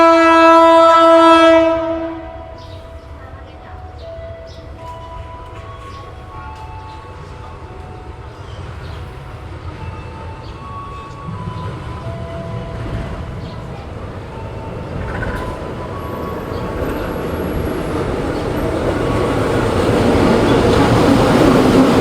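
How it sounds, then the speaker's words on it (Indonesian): The Pariaman Express train pulls into Padang station, opening with a loud horn blast and then a long rising rumble of wheels and engine as it draws nearer. "ini sebentar lagi kereta api Pariaman Express tiba di stasiun Padang"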